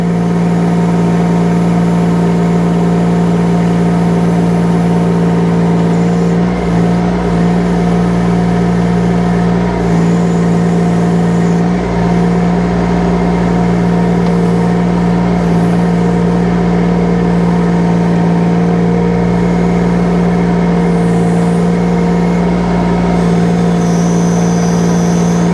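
A mini excavator's engine runs steadily at full revs, a loud constant mechanical drone with a strong low hum and some vibration rattle, no voices over it.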